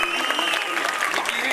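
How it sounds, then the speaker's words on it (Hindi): Audience applause for the winning schools at an Urdu quiz competition: a dense, steady wash of many hands clapping close by for the whole moment, with a voice faintly audible beneath it. "जोरदार तालियां बजाएं।"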